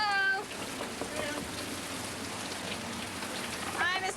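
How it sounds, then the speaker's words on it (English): Heavy rain pours steadily onto surfaces outdoors in Miami, a dense continuous hiss with brief bird-like chirps at the start and end and faint voices mixed in. "what did you do, bring all this rain?"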